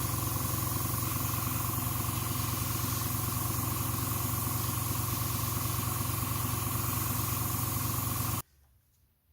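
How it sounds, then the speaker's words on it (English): Continuous hissing spray from an aerosol can of transparent blue paint on a model, steady and fairly loud for about eight seconds, then cutting off abruptly to near silence. "I'm just going to spray the two main bits transparent blue"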